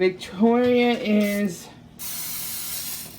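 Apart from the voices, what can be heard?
cooking spray greasing a pan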